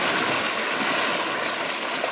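Water rushes steadily in a stream, a dense, continuous roar of flowing current, loud and close, with no voices.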